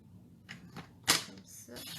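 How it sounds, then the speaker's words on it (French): Scissors snip a strip of patterned handmade paper, a few short crisp cuts with one sharp louder snip in the middle, close by and alone. "Je vais juste me couper une bande de papier."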